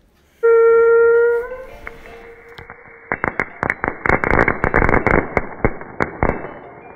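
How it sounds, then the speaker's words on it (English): Fireworks outdoors at New Year: a long, loud, shrill whistling shriek like a human scream, followed by a rapid, irregular string of sharp crackling bangs and pops, close and loud, with no talking. "I know it sounds like a human screaming, but it's actually not. It's actually just a firework,"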